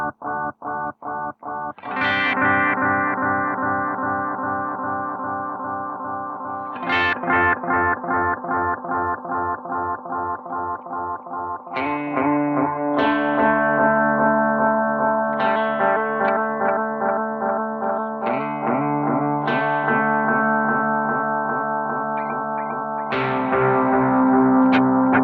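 Guitar played through a Nobels Del-mini analog delay pedal, phrases of sustained distorted chords and notes with audible repeats trailing behind each strike, steady and fairly loud throughout with no voices.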